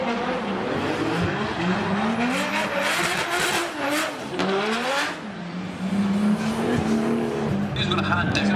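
Cars roaring around a track with revving engines and tire squeal, engine pitch rising and falling as they pass, with a voice talking over it.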